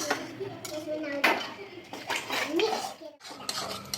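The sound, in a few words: beaten egg added and mixed in a pan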